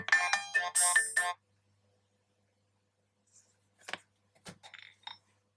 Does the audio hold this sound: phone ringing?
yes